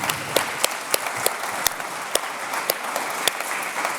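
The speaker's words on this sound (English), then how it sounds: "Please give them a round of applause." A festival audience applauds authors at the 2022 New Orleans Book Festival, giving a modest round of clapping with a few sharper individual claps standing out, heard close and steady for several seconds.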